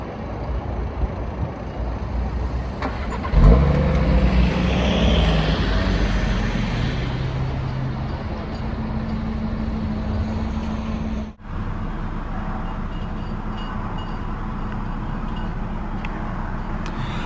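A 2019 Audi RSQ3 Sportback engine fires up with a sharp burst near 3.5 s, then settles into a steady, loud idle with a low rumble that runs on to the end with no talk.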